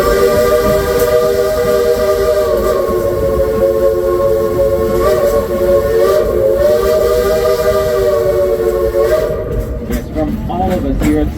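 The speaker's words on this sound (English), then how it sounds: "So this next whistle goes out to you." A loud, sustained steam locomotive whistle from a two-foot narrow-gauge train at Silver Dollar City in the Ozarks, a rich multi-tone blast held for many seconds with hissing steam underneath, fading near the end.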